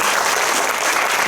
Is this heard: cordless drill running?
no